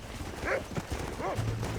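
Horse hooves clip-clop on the ground in the video game Red Dead Redemption, a steady near trot with a couple of soft whinnies over faint ambient noise.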